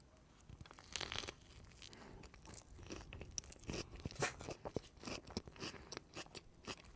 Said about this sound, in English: I'm gonna give you a burrito lettuce ASMR real quick.